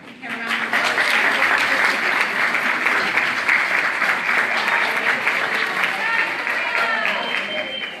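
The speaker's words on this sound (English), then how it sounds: "Have a round of applause." Loud, sustained applause from a large audience at a graduation ceremony, honoring standing faculty of a Communications Department, steady clapping for about eight seconds before tapering slightly at the end.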